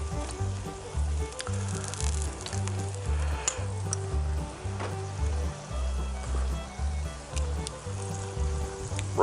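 Corned beef and onions, seasoned with mustard and coriander, sizzle steadily in a pan, a continuous close frying hiss over a low pulsing hum, with no talk.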